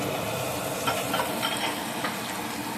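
Onions fry in olive oil for Punjabi-style butter chicken with a dense, even sizzle, close and steady, broken by faint stirring scrapes and no talking.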